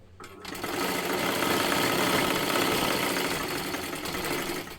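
A sewing machine stitches fabric in a continuous, fast mechanical whir with rapid needle ticking, starting abruptly and running steadily close by.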